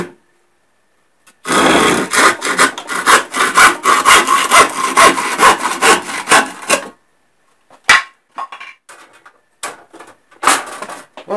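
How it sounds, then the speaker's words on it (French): A hand saw cuts through a wooden leg of a chick perch in loud, rapid back-and-forth strokes for about five seconds, then stops, followed by a few scattered scraping strokes and knocks. "on va scier l'un des pieds"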